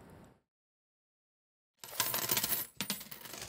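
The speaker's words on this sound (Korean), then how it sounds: "서랍 속에서 잠자고 있는 100원 동전들." A cascade of 100-won coins drops and clatters, a bright metallic jangle in two bursts after a brief silence.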